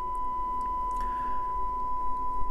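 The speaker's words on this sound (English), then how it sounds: "So this is just with a sine wave fed in." Steady sine wave test tone fed through a restored KLH Model Eight amplifier into a dummy load during post-rebuild testing, a constant pure pitch held unbroken over a low background hum.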